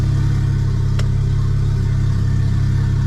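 A BMW N54 engine paired with a DCT gearbox drones steadily and loudly, a constant low engine hum with no clear gear changes.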